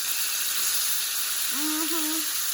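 Top sirloin steak sears in a hot pan with a steady, close sizzling hiss. A short voiced sound rises briefly near the end.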